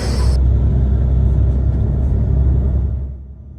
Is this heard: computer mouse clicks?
no